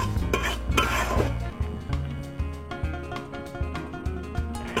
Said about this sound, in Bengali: ময়দা ভাজার সময় কিছু ময়দাতে দিতে হবে না, এমনি খালি কড়াই ময়দাটা ভেজে নিতে হবে।